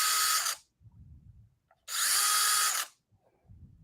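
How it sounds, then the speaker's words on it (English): Impact wrench running in two short loud bursts of high whirring, separated by quiet pauses with faint low rumbling. "An impact wrench, though."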